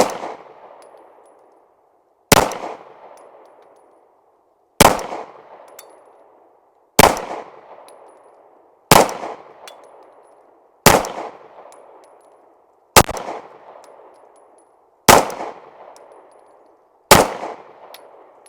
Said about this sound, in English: I got some of this grind hard 115 grain ammo loaded up. Let's see how it shoots.